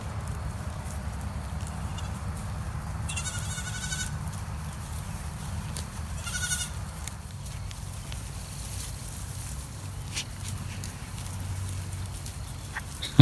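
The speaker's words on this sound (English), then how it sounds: "Here come the goats. Someone let the goats out." Goats let out of a field bleat in a few short calls around the middle, set against steady outdoor low rumble and background noise at a building site.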